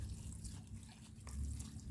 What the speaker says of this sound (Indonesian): Kita siram air secukupnya.